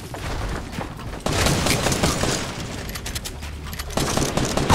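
Gunfire in Fortnite Battle Royale duos, dense rapid bursts of assault-rifle shots with sharp cracks and booms, loud and sustained with a sudden louder volley partway through.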